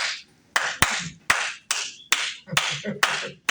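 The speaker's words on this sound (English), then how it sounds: "Come on, your hands are clapping." Hands clapping in a slow, uneven rhythm, about eight sharp claps at close range in a night group meeting room, with faint background murmur between them.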